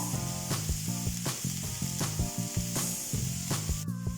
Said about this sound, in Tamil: இப்போ வெங்காயம் ஓரளவுக்கு வதங்கிடுச்சு பாருங்க.